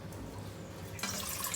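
Two cups of water poured into a cooking pot trickle quietly at first, then swell into a brighter, louder splashing stream near the end.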